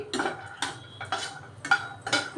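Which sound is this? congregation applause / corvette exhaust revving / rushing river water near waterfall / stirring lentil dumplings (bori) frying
stirring lentil dumplings (bori) frying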